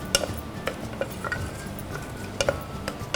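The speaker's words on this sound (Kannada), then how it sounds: "ಯಾಲಕ್ಕಿ ಹಾಕ್ಕೊಳ್ತಾ ಇದ್ದೀನಿ ಚಕ್ಕೆ ಬೇ ಲೀವ್ಸ್ ಮತ್ತು ಜಾಪತ್ರೆ ಹಾಕ್ಕೊಳ್ತಾ ಇದ್ದೀನಿ ಇನ್ನು ಸ್ವಲ್ಪ ಎಣ್ಣೆಲಿ ಹುರ್ಕೊಳ್ತಾ ಇದ್ದೀನಿ" Cardamom, cinnamon, bay leaves and mace frying in oil for egg biryani, giving a soft, steady sizzle punctuated by light clinks and scrapes of a stirring spoon against the pan.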